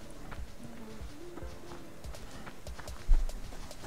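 A running bear in the survival video game Subsistence, its rapid footfalls thudding in an uneven galloping rhythm at moderate distance, with a heavier thump near the end.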